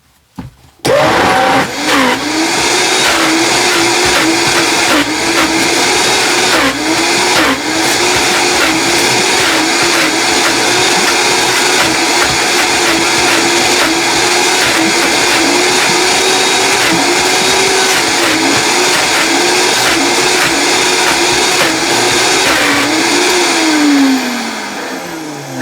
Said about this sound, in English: one more turn in the blender.